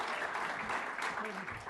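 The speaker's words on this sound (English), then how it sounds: "Please give our panelists a round of applause." Audience applause for panelists at the close of a legal seminar, a steady wash of clapping that holds at an even level for under two seconds with a faint murmur of voices mixed in.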